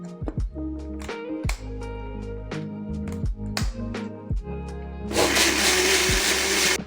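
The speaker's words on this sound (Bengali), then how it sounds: "একটু বাটারটাও মিক্সিতে ঘুরিয়ে নেব।" An electric mixer grinder whirs in repeated short loud bursts while grinding spice paste with butter for shahi paneer, then runs in one steady continuous roar near the end.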